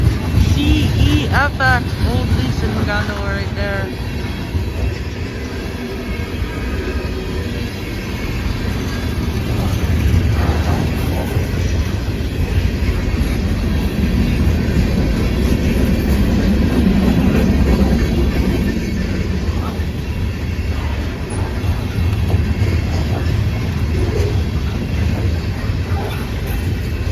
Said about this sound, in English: Yep, there's the end of the train, guys.